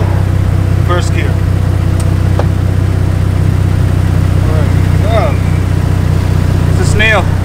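A straight-piped BMW E46 runs loud and steady in sport mode, first gear, with its traction control switched off. Its constant engine drone fills the whole clip, a few short rising revs break through, and faint voices sit under the noise.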